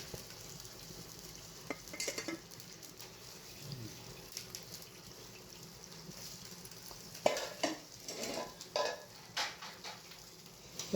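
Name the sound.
blanching vegetables in a pan with water and oil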